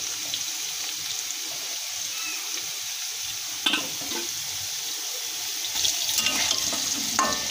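Potatoes frying in oil in a home kitchen pan for a vegetarian curry, a steady close crackling sizzle with a couple of sharper scraping stirs partway through, no talking.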